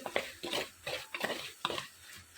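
A spoon scrapes in rhythmic strokes through masala sautéing in a pan with garam masala, about five distinct stirs in quick succession, close and fairly soft, with only a faint sizzle underneath.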